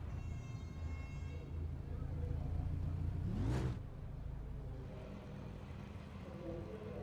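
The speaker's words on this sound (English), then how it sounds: "They are revving up a little bit." Race cars idle and rev on the starting grid of an iRacing sim race at the Hungaroring: a steady low engine rumble with one rising, sweeping rev surge in the middle before settling back to a drone.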